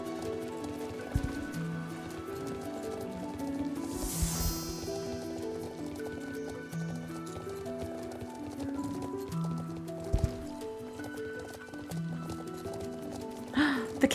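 Horse trotting through the Hollow Woods race area in Star Stable Online, a steady clip-clop of hooves running continuously under game music, with a few sharper thumps.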